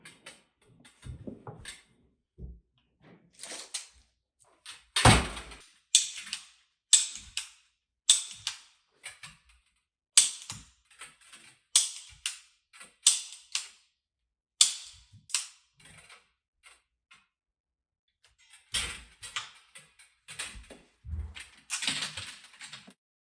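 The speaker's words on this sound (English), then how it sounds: "I'll mark my pipe at 750 mil and form the next bend" An air source heat pump copper pipe being formed on a bender, a string of sharp metallic clicks and clunks in uneven bursts, close and fairly loud, separated by short silences.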